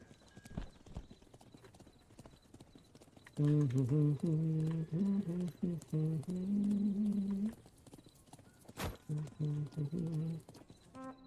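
Horse hooves clip-clop in the strategy game Thronefall, steady rhythmic steps running through the whole stretch alongside looping game music, with a couple of sharp percussive hits.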